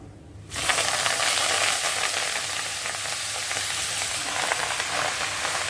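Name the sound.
mallow leaves (sonchal saag) added to hot pan, sizzling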